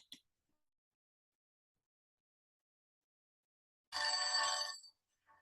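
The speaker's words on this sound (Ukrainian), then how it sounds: "Дзвонить будильник." An alarm clock gives a single short burst of bright metallic ringing, about a second long, breaking an otherwise silent stretch.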